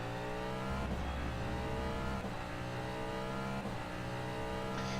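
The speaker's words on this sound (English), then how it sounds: "the Cadillac DPi sounds pretty nice" A Cadillac DPi prototype race car in the rFactor 2 racing simulator, practicing at the Nürburgring, revs hard with a buzzy, rising engine note that climbs through repeated gear shifts, loud and continuous with no voices.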